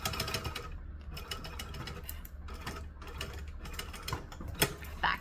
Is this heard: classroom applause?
no